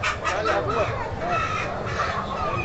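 Chickens clucking and squawking at a busy outdoor poultry market in João Alfredo, Pernambuco, dense and close, with people talking over the birds.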